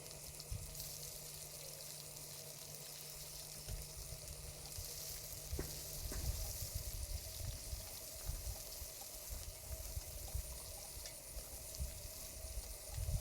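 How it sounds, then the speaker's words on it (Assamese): Onions frying gently in mustard oil with cloves, cardamom, cumin, bay leaf and cinnamon, a quiet steady sizzle with faint occasional stirring, no talk. "পিঁয়াজখিনি অলপ ৰঙা হোৱাকৈ ভাজিম অকণমান।"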